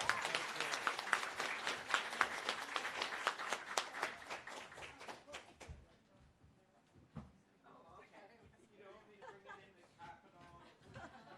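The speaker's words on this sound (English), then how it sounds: "One more round of applause for Senator Klobuchar." A crowd at an event applauds loudly for several seconds after a senator's appearance, then the clapping thins out into scattered claps and murmuring voices.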